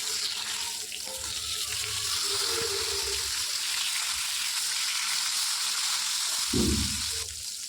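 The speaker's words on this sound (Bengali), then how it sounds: "আমি সর্ষের তেল দিয়ে এক এক করে মাছগুলোকে ছেড়ে দেব।" Katla fish frying in mustard oil, a steady broadband sizzle filling the clip with a brief louder burst near the end, no voices.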